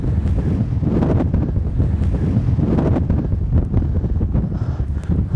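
Steady wind gusting outdoors during paraglider ground handling in sunshine, a loud continuous rushing buffet on the microphone with no voices.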